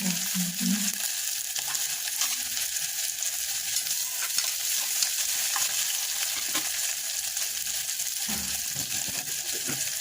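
Green chilies and onion frying in a pan for chole masala, giving a steady bright sizzle with occasional stirring clinks and scrapes, close up and without talk.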